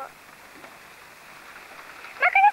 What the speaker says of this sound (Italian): Quanto piove?